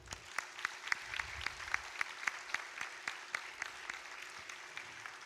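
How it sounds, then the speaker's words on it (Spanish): An audience at an annual gala of the Centro Gallego de Maracaibo claps in a quiet, even rhythm, with crisp, regularly spaced claps heard from a distance. "Un aplauso, por favor."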